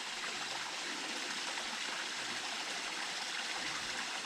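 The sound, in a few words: stream water flowing down rocks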